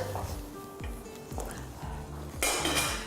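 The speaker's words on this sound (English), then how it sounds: "Now I'll just grab my lid." A metal frying pan lid clinks and rattles as it is handled, with light knocks and a bright clatter near the end.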